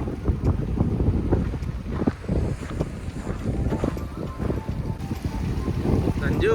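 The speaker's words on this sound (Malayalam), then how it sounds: "കാറ്റടിച്ചിട്ട് നോക്കിയേ, തിര നോക്കിയേ" Strong wind buffets the microphone beside a wave-tossed lake, with choppy water sloshing steadily throughout under intermittent voices.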